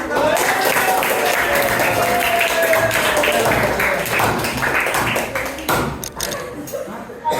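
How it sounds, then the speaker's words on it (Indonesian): Classmates clap after a group presentation in a classroom, a loud burst of close, crisp hand claps that thins into scattered taps and thumps near the end, with some voices mixed in. "Tepuk tangan, tepuk tangan."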